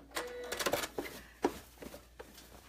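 A sewing machine stitches fabric for an advent calendar in short, uneven bursts of mechanical whirring and clatter, fairly quiet, with pauses between runs.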